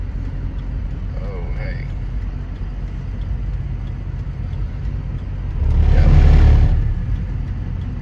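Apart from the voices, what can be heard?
cars passing on the road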